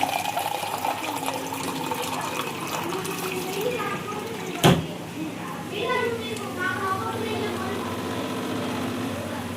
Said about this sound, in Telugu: కొంచెం నీళ్ళు పోస్తాం